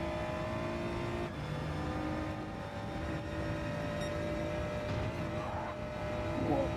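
Racing car engine in Gran Turismo 7, a BMW race car, droning steadily at high revs with tonal harmonics and the rear wheels spinning, a constant close engine note without a break.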